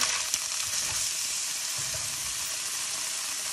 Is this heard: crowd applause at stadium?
no